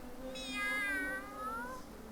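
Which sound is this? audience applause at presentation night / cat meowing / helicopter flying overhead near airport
cat meowing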